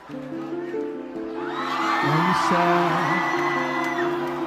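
A packed crowd at a concert whoops and cheers, swelling from a scattered murmur into a broad roar under prominent sustained tones, with a voice speaking over it.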